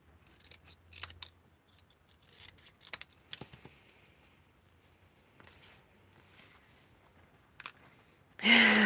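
Scissors cutting paper in a string of soft, irregular snips close by, with a sudden louder burst of noise at the very end.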